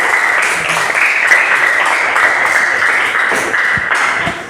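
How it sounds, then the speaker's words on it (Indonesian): Classroom applause for a student group's podcast presentation, loud dense clapping from many hands that carries on steadily for several seconds before easing off at the end. "tepuk tangan buat kelompok 3 atas presentasi podcastnya."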